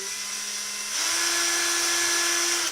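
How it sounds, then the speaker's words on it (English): A power drill whines steadily while starting holes through plastic card over wood for a model build, its pitch jumping higher after a second and holding until it stops abruptly. "I'm actually going to drill this right into the wood"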